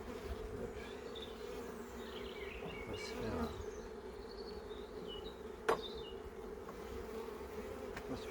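Honey bees buzz steadily around a hive frame holding the queen and brood, a dense continuous drone of many wings close by, with a few sharper passes and a brief knock near the end.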